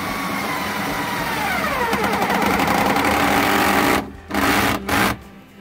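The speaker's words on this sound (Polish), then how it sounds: "Nie znam za bardzo tej wkrętarki, ale wydaje mi się, że jak ustawię sprzęgło na 5, to będzie aż w zupełności nadto" Cordless drill-driver with its clutch set to 5, running in a steady whirring buzz with rising and shifting pitch, then stopping and restarting in short bursts near the end.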